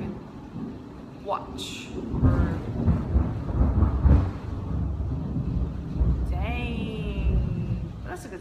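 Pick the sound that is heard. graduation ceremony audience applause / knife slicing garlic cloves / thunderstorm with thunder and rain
thunderstorm with thunder and rain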